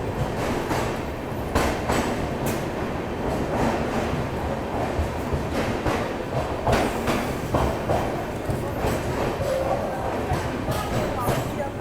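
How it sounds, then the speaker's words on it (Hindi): The Gorakhdham Express rumbles into Gonda Junction station with steady rail noise and wheel clatter, a voice talking over the running train. "अभी अपनी ट्रेन पहुंच चुकी है गोंडा जंक्शन रेलवे स्टेशन।"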